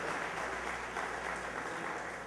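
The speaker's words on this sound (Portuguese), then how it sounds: "Dê uma salva de palmas ao Senhor" A church congregation claps together in a dense, steady wash of applause that fills the room at an even level, with no individual voices standing out.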